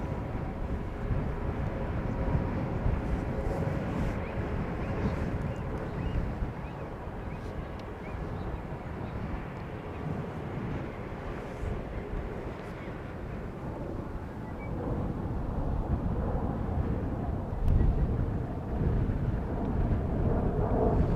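A KLM Greenliner jet on arrival to runway 18R at Amsterdam Schiphol gives off a steady, broad engine roar, fairly distant and muffled by wind buffeting on the microphone, rising slightly toward the end.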